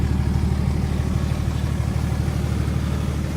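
BMW 530d E39 diesel with its exhaust idling: a steady low, rumbling drone held evenly throughout, moderately loud and close, with no talk.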